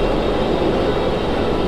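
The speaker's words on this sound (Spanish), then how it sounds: "Casi me choco contra un helicóptero." A loud, steady, broadband engine roar with a low rumble, continuous and unbroken, like rotor and turbine noise of a nearby helicopter in Grand Theft Auto V Online.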